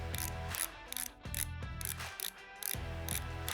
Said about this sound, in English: Typically, this requires a ratchet with a 10mm socket.